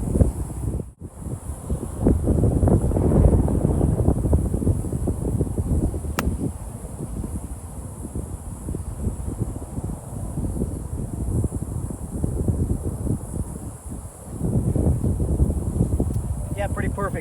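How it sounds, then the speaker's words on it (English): Strong wind buffets the microphone on a golf course, a continuous low roaring rumble with gusty swells, and a person talks briefly near the end. "Wind's coming at us strong."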